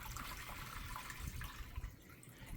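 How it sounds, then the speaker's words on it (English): Water pours into a home hydroponics growing system, a close, continuous splashing and trickling rush that stays fairly steady and soft, with no voices over it. "Time to add the water."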